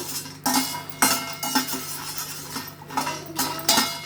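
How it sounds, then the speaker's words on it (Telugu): Garlic and dried red chilies dry-roasting in a pan give a run of metallic clinks and scrapes from a utensil against the pan, in uneven bursts over a low steady hum. "అదే పాన్లో వెల్లుల్లిపాయలు అలాగే ఎండుమిర్చి వేసుకొని జస్ట్ ఊరికే కొంచెం డ్రై రోస్ట్ చేసుకోవాలి"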